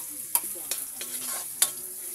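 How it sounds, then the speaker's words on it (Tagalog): Garlic and ginger sautéing in hot oil in a pan, a close bright sizzle broken by a few sharp utensil clicks and scrapes as they are stirred, with no talking. "Igisa ang bawang, luya"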